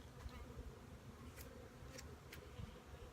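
Honeybees at a hive, checked and smoked after a bear disturbance, give a faint, steady hum with brief higher buzzes of single bees passing close, no voices present.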